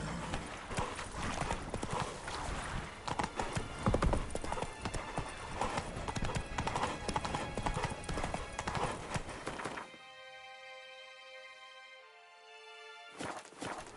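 Roach, the horse in The Witcher 3 video game, gallops in steady, loud clip-clop hoofbeats over a dense game soundscape for about ten seconds, then the scene drops to a quieter tonal passage before the hooves briefly return.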